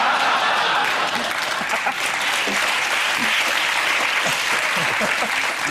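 A panel-show studio audience claps in a loud, continuous burst that stays dense and close throughout, with a few voices faintly mixed in under it.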